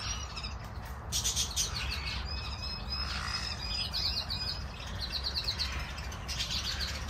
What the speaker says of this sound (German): Hier sind noch Finken und Kanarienvögel.